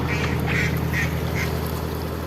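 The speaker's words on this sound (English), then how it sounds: "Ducks, honestly." Ducks quacking nearby at a canal beside a moored narrowboat near Llangollen, four or five distinct quacks spaced out over a constant low engine hum.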